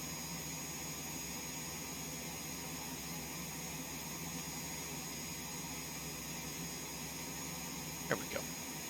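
Auxiliary power unit of a Cessna Citation X in the X-Plane 12 simulator, a steady faint whining hum that runs unchanged throughout, with a couple of soft clicks near the end.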